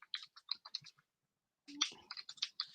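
Quiet, rapid clicks of fingers typing on a computer keyboard come in two bursts separated by a brief pause, with no talking.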